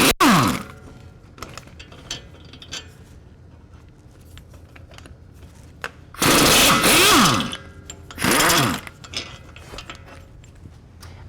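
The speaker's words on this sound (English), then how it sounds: "If you use a impact universal socket like this, you can get at all 3 of them relatively easily." An impact universal socket removing 18mm hub bolts, loud whirring ratchet bursts at close range separated by quieter clicks and handling, no talk.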